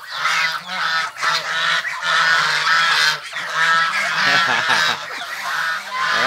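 Geese honk loudly and continuously alongside chickens and other farm fowl in morning rice fields, a dense, close chorus of overlapping calls with no talking.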